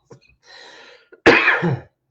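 A faint breathy exhale, then a single sharp, close cough.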